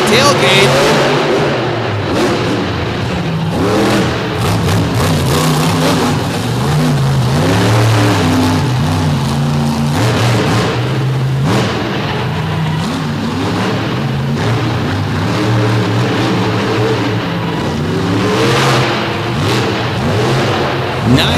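Monster truck with a 557 cubic inch engine powering around the inside of the Southern Illinois Center arena, loud continuous engine roar with rising and falling revs, heard under an announcer's commentary throughout.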